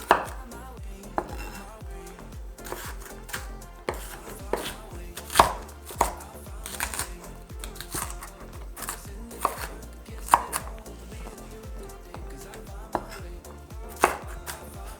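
Knife chopping half a red onion on a cutting board, a steady run of close, crisp thuds with a few louder strikes, alone without talk.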